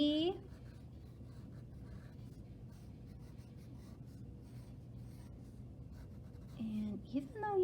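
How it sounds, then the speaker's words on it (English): Pencil or marker scratches steadily across paper while someone draws a picture, a close, continuous rubbing texture, with a voice speaking briefly at the start and the end. "today, I'm gonna draw a picture"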